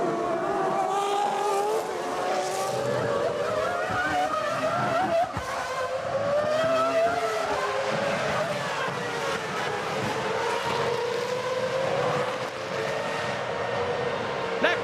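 Formula One cars race through the Curva Grande at Monza during the 2001 Italian Grand Prix, engines screaming loud and continuous with shifting pitch as several cars pass close by, under a dense roar of crowd and track noise.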